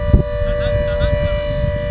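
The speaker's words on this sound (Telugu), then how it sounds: "సైరన్ మోగుతుంది ఎందుకో మరి" Near a tunnel, a siren holds one steady, piercing tone, loud and unbroken throughout, with a brief low thump near the start.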